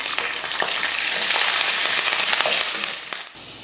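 Curry leaves, green chillies and garlic frying in hot oil in a pan: a loud, dense crackling sizzle with spitting pops and stirring, close, easing off toward the end, no voices.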